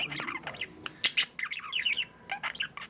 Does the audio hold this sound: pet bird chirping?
yes